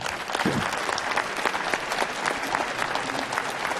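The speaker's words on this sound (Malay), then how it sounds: "Kita berikan tepukan kepada ketiga-tiga panel" Dense audience applause for a panel of three at a science advocacy forum, steady and close throughout, with no talk over it.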